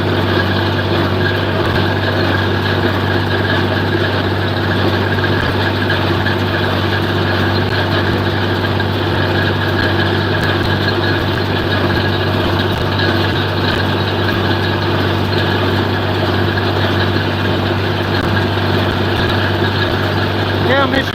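A 1967 John Deere 4020 tractor engine runs steadily at a loud, constant idle, with a strong low hum and no break for about twenty seconds on a Michigan farm.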